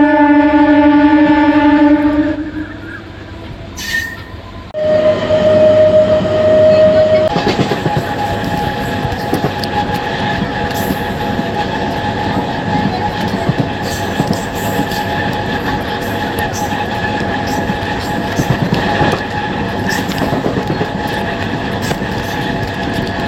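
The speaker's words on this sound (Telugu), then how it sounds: "అనుకున్న టైంకి అయితే బండి వచ్చేసింది" A train pulls into Kakinada station, a steady rumble of wagons and wheels rolling past, with a horn-like tone at the start and squeals over the continuous running noise.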